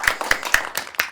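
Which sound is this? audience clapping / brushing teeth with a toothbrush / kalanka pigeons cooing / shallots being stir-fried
audience clapping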